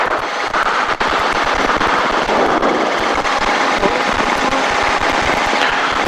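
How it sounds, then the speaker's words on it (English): Rapid low thumping helicopter rotor chop pulses continuously over a broad noisy wash, loud and fairly close, at night. "oh, that's a helicopter"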